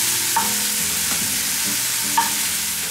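Butter melts and sizzles in a pot while an omelette is being made. A dense, even hiss fills the whole moment up close, with a couple of soft clinks from a utensil against the pot.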